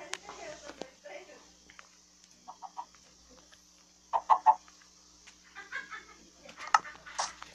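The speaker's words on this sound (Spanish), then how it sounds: "Un pollito, un pollito, un pollito, un pollito." Chicks cheep and cluck in short bursts in Minecraft Pocket Edition, scattered over a quiet background with faint clicks.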